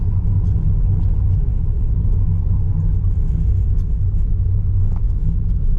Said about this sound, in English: So now I'm going to be driving.